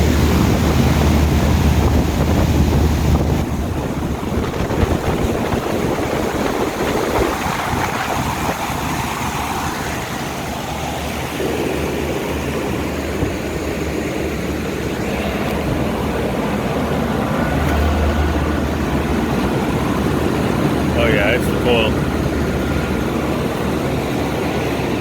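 Outdoor air conditioning unit with a dirty coil and weak airflow, running on a no-cooling service call: a loud, continuous rumbling whoosh of the fan and machinery, with steady wind-like noise and no talking.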